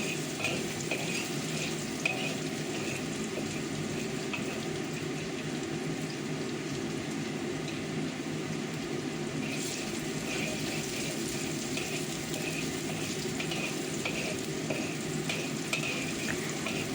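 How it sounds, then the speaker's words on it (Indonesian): Prawn dish stir-fried in an old, worn wok, with a constant loud sizzle and occasional scraping stirs, close up and continuous, with no voices. "Makanya tak oseng terus iki"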